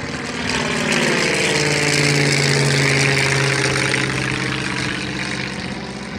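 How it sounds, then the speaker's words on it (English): An 80 percent scale Spitfire Mk26 replica flies overhead, its propeller engine droning steadily with a buzzing tone that slowly shifts in pitch, loud and close, then easing slightly toward the end. "Spitfire's off the ground"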